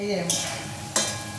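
Kohlrabi frying in a pan gives a steady close sizzle, broken by two sharp scrapes of a spatula; a voice speaks briefly at the start.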